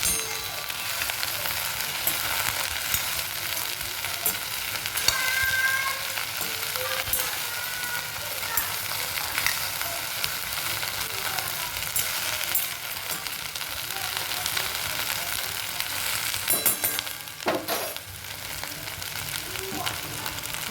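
Okra frying in a pan for a Marathi bhendi bhaji gives a continuous close sizzle, with a spoon stirring and scraping through it at irregular intervals.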